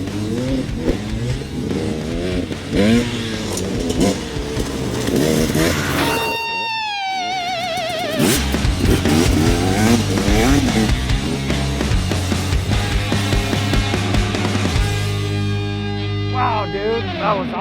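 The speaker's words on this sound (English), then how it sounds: "I promised my son Cole we'd do a little dirt bike riding." Dirt bike engine revving during a ride, rising and falling up close with shifting pitch sweeps and a brief drop near the middle, mixed with voices talking.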